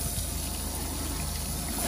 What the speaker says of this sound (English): add to the toilet just about a litre of water.